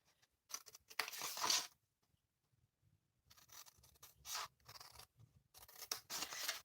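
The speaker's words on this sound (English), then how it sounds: "But what I'm going to do is cut the sides first. And then cut down before I wedge." Scissors cut the sides of card stock for a kerchief card kit in close, crisp bursts of snipping, separated by short pauses.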